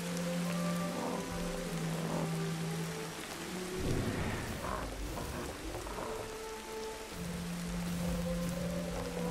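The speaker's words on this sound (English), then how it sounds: "Can I get out of the rain?" Heavy rain pours steadily during a storm in the game Ancestors: The Humankind Odyssey, with a deep thunder rumble swelling midway over a constant background hum, heard without any voices.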